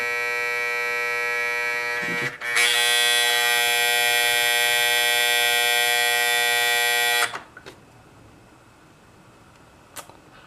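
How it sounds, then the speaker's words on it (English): A General Electric Model 50 clock radio sounds its alarm buzzer, a loud, harsh, steady electric drone that starts abruptly, holds for about five seconds, then cuts off, leaving a couple of faint clicks in a quiet room. "That is the buzzer. That's what I wake up to every morning."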